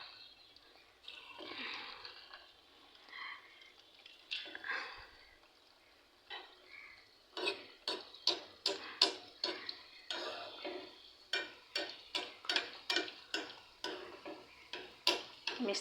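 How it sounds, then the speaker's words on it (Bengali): Sweets frying in hot oil, a soft sizzling hiss that turns into a quick, rhythmic run of sharp ticking clicks and taps in the second half. "আলতোভাবে নেড়ে ছেড়ে লালচে করে ভেজে নেব।"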